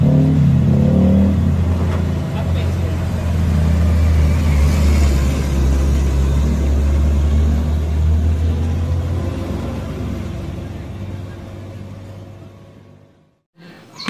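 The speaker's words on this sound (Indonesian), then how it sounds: "Truk tangki juga." A toy tanker truck gives a steady close rumbling motor drone that slowly fades and cuts off near the end.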